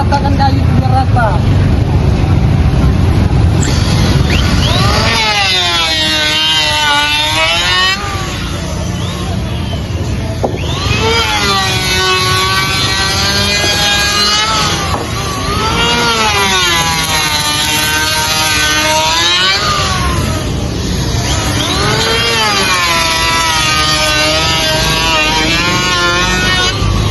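A wood planer in a door-frame factory flattens timber in repeated passes, each a loud rising-and-falling machine whine lasting a few seconds, separated by short lulls where the motor drops back to a lower hum.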